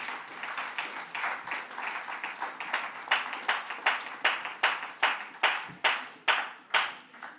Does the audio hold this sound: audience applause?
yes